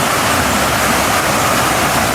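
A river in Snowdonia, Wales, rushes loud and close, a constant broadband roar of flowing water with no breaks and no voices.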